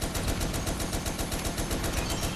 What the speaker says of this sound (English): Let's do my best to light stuff up with this turret.